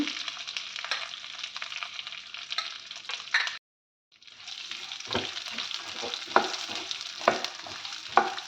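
Pistachios, raisins, melon seeds and pumpkin seeds frying on a low flame for laddus, a steady close sizzle with stirring scrapes and clinks, broken by a brief silent gap midway.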